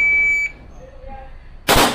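A shooting-range shot timer gives a single steady electronic beep lasting about half a second. After a short quiet pause, a loud, sharp gunshot-like blast follows.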